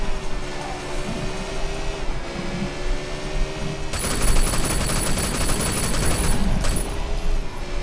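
A rapid machine gun burst fires in the video game Sleeping Dogs, a dense rattling volley breaking in after background game sounds and continuing for several seconds.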